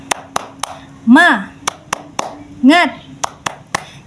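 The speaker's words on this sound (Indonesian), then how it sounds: "Sebelum lanjut, kita tepuk semangat dulu biar tambah semangat." Rhythmic group clapping in a spirited cheer pattern during an Islamic education lesson, sharp claps in a steady beat broken by two short sung or chanted calls, close and fairly loud.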